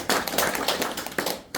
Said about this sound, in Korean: 한번 박수 한번 주시면